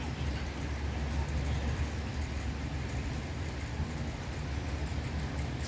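Steady rain falls outdoors on a dark, overcast day in a hilly area, a continuous dense hiss with low rumble underneath and no clear voices.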